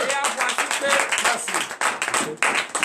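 A church congregation claps hands in brisk, uneven bursts during morning prayer, with voices talking and calling out over the applause.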